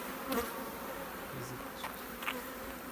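Steady, dense buzzing of many honey bees close by at a sealed hive frame, a continuous hum with a few louder passes of individual insects.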